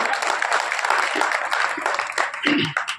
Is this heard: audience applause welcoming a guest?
yes